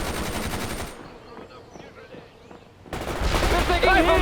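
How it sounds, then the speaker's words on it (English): Machine gun fire from a vehicle in the World in Conflict strategy game: dense rapid bursts rattle loudly at the start, pause briefly, then resume with heavier overlapping gunfire and battle noise. "Fire the machine gun vehicle."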